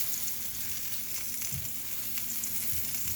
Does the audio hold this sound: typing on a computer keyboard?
no